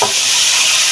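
Pui fruit (Malabar spinach berries) stir-fried in a pan with fried onion and green chili gives a loud, close, continuous sizzle with stirring noise and no talking.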